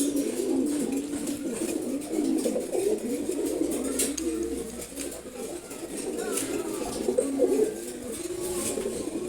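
Giribaj pigeons coo in a continuous low murmur, several birds overlapping close by in a loft, with faint voices in the background.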